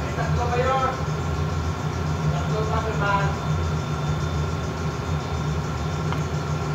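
A steady mechanical whir hums continuously from an electric blender running in a ship's galley, with a voice talking briefly over it.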